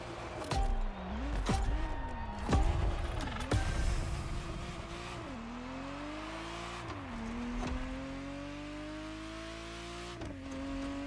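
A Ferrari Testarossa in The Crew Motorfest revs hard through repeated gear changes, the engine note climbing and dropping several times before settling into a long steady drone, fairly quiet and with no talk.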